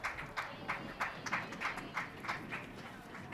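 Rhythmic clapping from spectators at the junior Spanish archery championship bronze-medal finals in Madrid, a fairly faint, regular pulse of hands beating roughly three times a second.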